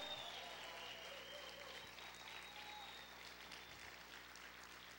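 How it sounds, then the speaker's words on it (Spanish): A church congregation claps at a steady, moderate level throughout, a dense wash of hand claps with a whistling tone near the start and some murmuring. "Si ese aplauso es para el Señor, déselo fuerte"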